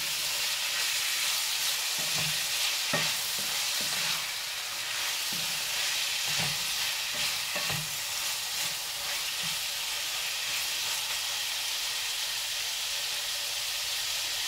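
Pasta with chopped tomato sizzles steadily in a pan, a continuous bright hiss broken by soft, irregular scrapes and taps of stirring, with no talking.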